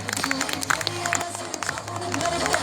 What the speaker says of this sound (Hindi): इस कलाकार के लिए मैं चाहूंगा एक बार जोरदार तालियां